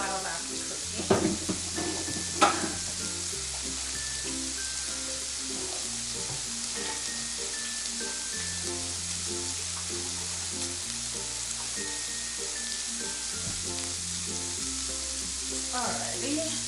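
Pork belly sizzles steadily in a pan for a crispy finish, with continuous hissing frying noise throughout and a couple of louder clatters early on, while background music plays underneath.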